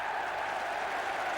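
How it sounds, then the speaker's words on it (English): Steady applause from a large cricket crowd at Lord's during the 2000 Benson & Hedges Cup final, Glamorgan against Gloucestershire, greeting Matthew Maynard's century; a dense, continuous wash of clapping with no voices. "Applause from the balcony. Applause from this crowd at Lord's."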